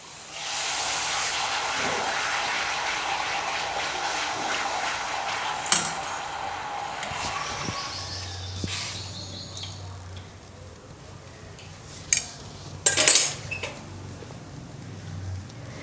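Chickpea papad frying in hot oil in a pan, a steady bubbling hiss throughout with a few sharp clinks of a utensil against the pan near the end.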